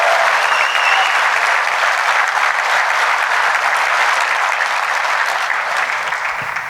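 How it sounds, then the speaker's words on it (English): Steady, sustained applause from a large conference audience at a keynote, dense and even across the whole stretch, fading only slightly at the end. "Please give him another round of applause."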